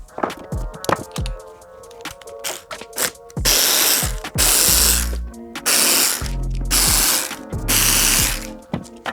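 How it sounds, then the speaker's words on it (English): A T-handle or Allen key breaking loose factory-tightened bolts on a 2024+ Aprilia RS4, heard as loud close ratcheting clicks in quick bursts, then several longer grinding ratchet runs. "What I like to do is break the bolts loose first and then use a tool"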